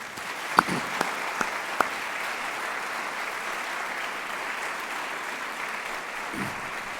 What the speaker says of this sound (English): If we could give them a round of applause